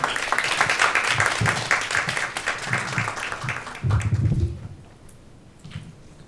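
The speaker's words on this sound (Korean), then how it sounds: "박수 부탁드립니다." An audience at a Korean policy forum on low birth rates applauds, a steady crowded clapping that holds for about four seconds and then fades to near quiet.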